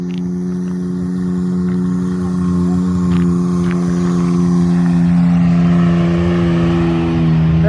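A Can-Am X3 side-by-side does a burnout, its engine holding a loud, steady high drone that swells slightly toward the end, close and unbroken.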